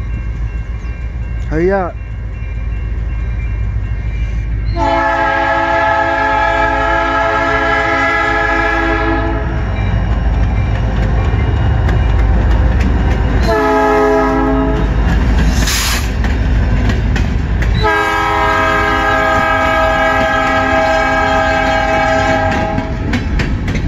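GTW 5933 hauls a freight train past a crossing in Michigan, its horn blasting loudly in three long sounds over heavy rumbling and rail clatter; a crossing bell rings early and a person speaks briefly.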